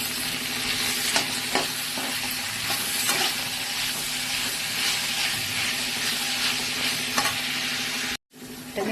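Tomatoes fry in hot oil for a mutton boti curry and are stirred, giving a steady close sizzle with scraping clicks of the spoon, cut off by a short silent gap near the end.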